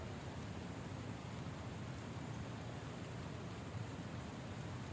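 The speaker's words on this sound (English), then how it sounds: "Enjoying the rainfall." A light rain shower falls outdoors as a soft, steady, faint hiss with no distinct drops or pauses.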